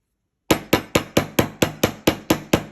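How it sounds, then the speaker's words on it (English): A run of ten evenly spaced hammer blows flattening metal wire for a ring, crisp and close, following a brief silence, with a short ring after each strike. "Now we're going to come back in and we're going to hammer the whole length."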